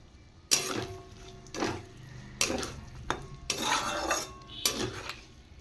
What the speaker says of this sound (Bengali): এবার আমি ভেজে রাখা ক্যাপসিকাম আর বিনস আর তার সাথে কাজু কিশমিশ এবার পুরোটা একসাথে মিশিয়ে নেব